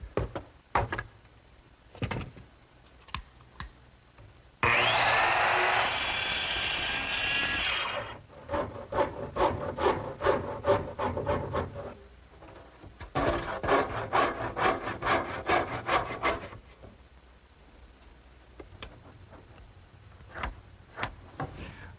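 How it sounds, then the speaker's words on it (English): A small circular saw cuts the legs of a wooden Shaker tall chest along a straight-edge clamp, a harsh whining cut followed by bursts of scraping, sliding and knocking wood sounds, close and loud. "I've set up a straight edge clamp for the long cut, which actually guides the base of my little circular saw"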